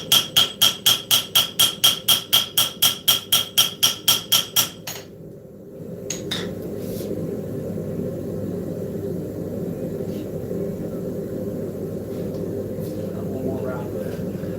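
A small hammer forges a steel blade on an anvil, ringing out a fast, steady run of about fifteen sharp metallic strikes. The hammering stops abruptly and gives way to a low rumbling workshop background.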